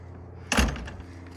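A cedar smoke-house door for smoking Alaska salmon swings shut with a single solid thud and a short rattle, fairly close, then the room goes quiet.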